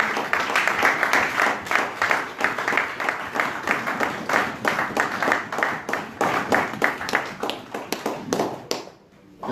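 A church congregation at a Sunday service claps steadily in a dense, even rhythm with some cheering mixed in, sustained for several seconds before briefly fading.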